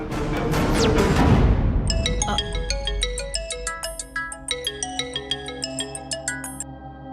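An incoming call ringtone plays loudly on a mobile phone, a bright repeating melodic tune of quick tones over a low steady hum after a brief noisy start.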